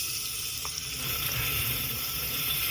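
Fennel seeds and ginger garlic paste sizzling in a hot pan, a steady close hiss running alone without pause.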